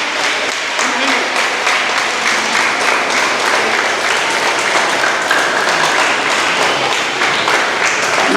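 A crowd claps loudly and continuously at a Krishna Janmashtami celebration, steady dense applause held close for the whole stretch with no pause.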